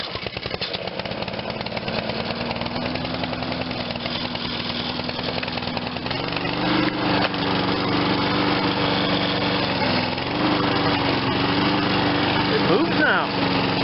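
A 21-inch MTD Pro self-propelled lawn mower with a Honda engine runs steadily and loudly up close, its pitch shifting upward partway through as the revs change.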